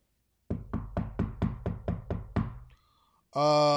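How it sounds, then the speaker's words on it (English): Nine firm, evenly spaced knocks on a door ring out close and loud, followed by a brief pause and then a sharp, buzzing sustained tone. "Go to this back alley, turn left, and knock on the door."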